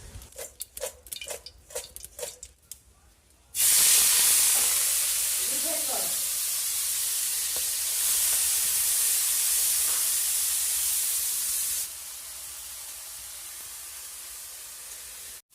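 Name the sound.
prawns frying in a pan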